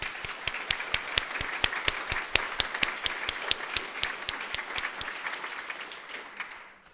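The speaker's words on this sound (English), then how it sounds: "And I think you should clap yourself." Conference audience applauding at an LGBTQ+ inclusion event keynote, many distinct hand claps in a quick fairly even pattern that gradually thins and fades toward the end.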